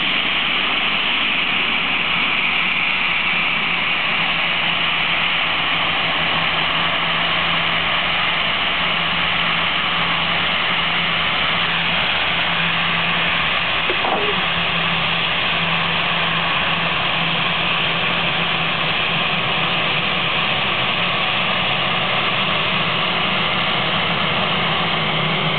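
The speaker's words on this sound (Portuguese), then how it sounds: "Sequência já vem o TAM também para decolar." A TAM airliner's engines drone at the head of runway 29 at Salgado Filho Airport in Porto Alegre before takeoff, a steady, fairly loud continuous roar with a faint tonal hum that holds throughout without a break.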